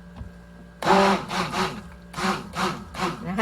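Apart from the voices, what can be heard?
stick blender mixing lotion in bursts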